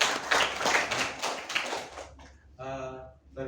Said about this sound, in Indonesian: Oke, kita tepuk tangan untuk kita semua.